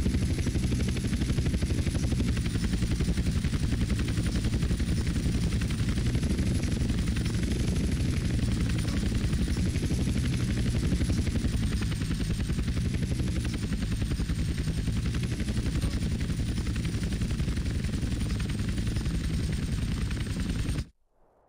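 A loud, steady helicopter rotor and engine roar in GTA San Andreas Remastered fills the whole stretch without letting up, with rattling bursts like gunfire mixed in, then cuts off abruptly.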